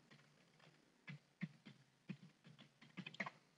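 A short burst of keystrokes on a computer keyboard as a password is typed, soft and fairly close, with uneven taps that quicken toward the end and no talking.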